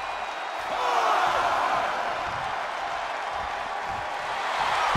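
A wrestling arena crowd roars steadily in the WWE 2K24 video game, a dense, loud, continuous wash of cheering that swells slightly around the first second and holds for several seconds.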